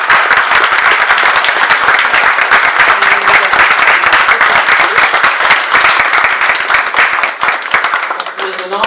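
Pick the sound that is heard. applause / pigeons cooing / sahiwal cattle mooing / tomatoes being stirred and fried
applause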